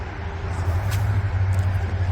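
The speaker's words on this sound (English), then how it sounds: "sorry for the traffic noise" Steady road traffic rumbles past a historic village walking path, a continuous low drone of cars and other vehicles close by with a brief passing hiss, no talking.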